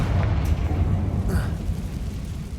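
Fiery Confringo spell blast in Hogwarts Legacy, a booming, rumbling burst with a crackling tail, close and loud, set inside an abandoned mine sealed after accidents, with a voice talking faintly beneath.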